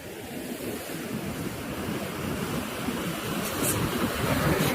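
Sea waves washing onto the sand at Devgad beach, a continuous rushing surf with wind buffeting the microphone, steady and fairly close, slowly building in loudness, with no speech.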